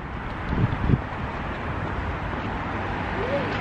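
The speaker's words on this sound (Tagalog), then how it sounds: "grabe ang hangin, no?" Strong outdoor wind roars steadily against the microphone throughout, with a few brief voice sounds near the start.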